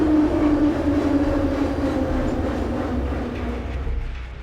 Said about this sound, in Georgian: ჩვენ ახლა რუსთაველის სადგურიდან დავიძარით მარჯანიშვილისკენ და ეს გვირაბი მდებარეობს მდინარე მტკვრის ქვეშ.